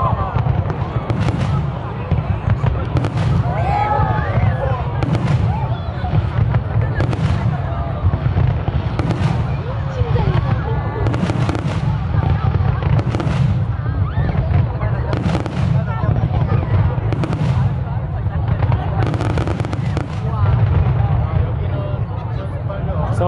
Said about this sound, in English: So apparently this is daytime fireworks.